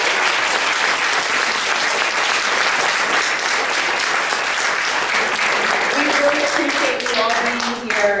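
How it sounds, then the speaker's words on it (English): Sustained audience applause fills a panel event hall, a dense, steady wash of many hands at close range that holds loud throughout, with a few faint tonal notes rising near the end. "Let's give them a huge round of applause"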